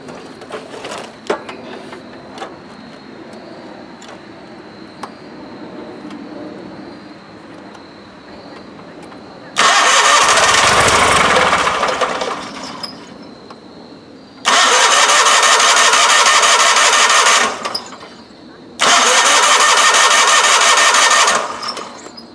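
A Wheel Horse 520-H garden tractor engine cranks on starting fluid: a low idle-like hum and ticking, then three loud sustained bursts of starter grinding and roaring engine, close and alone.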